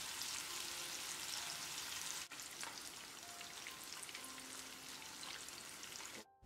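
King fish (vanjaram) coated in Chettinad masala fries in hot oil, a steady close sizzle and crackle that continues without talk, with a brief drop near the start and a fade at the end.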